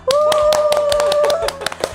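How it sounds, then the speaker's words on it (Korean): A few people clap their hands for a guest at a graduate department introduction recording, a short burst of close, distinct claps while a sustained tone runs underneath. "한 번 더 박수 칠까요?"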